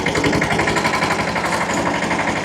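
A tractor engine running steadily at a cowshed, a loud, close, rhythmic diesel chug that throbs evenly throughout.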